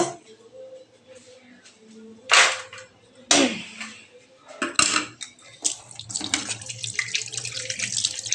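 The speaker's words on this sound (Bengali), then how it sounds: "হাতাটাকে ধুয়ে নিচ্ছি।" A metal ladle is rinsed under a running kitchen tap, water splashing steadily into a sink with a few sharp clinks and scrapes of the utensil against the basin.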